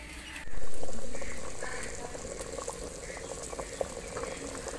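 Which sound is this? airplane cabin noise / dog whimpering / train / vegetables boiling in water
vegetables boiling in water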